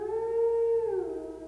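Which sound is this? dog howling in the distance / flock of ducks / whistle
dog howling in the distance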